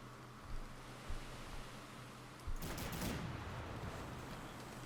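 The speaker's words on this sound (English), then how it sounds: "I don't know why my guns just fired that way" Sailing-ship cannons fire in the naval game Man O' War: Corsair: a few dull booms, then a heavy rolling broadside burst, all over constant wind and sea noise.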